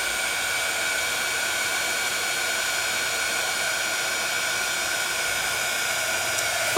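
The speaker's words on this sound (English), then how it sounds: "as I see the powder turning, becoming a bright gloss white, I'm slowly moving my heat tool" A heat tool blows a constant, even rushing hiss to melt embossing powder, steady and close throughout with no pauses.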